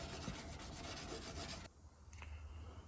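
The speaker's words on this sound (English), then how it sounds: "the rest you do with the sandpaper, with the block" Steady rhythmic rasping of a sandpaper block on the paint of a Porsche 914 in repeated strokes, close up, then stopping and giving way to quieter handling noise.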